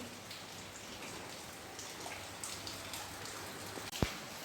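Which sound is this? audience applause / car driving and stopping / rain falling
rain falling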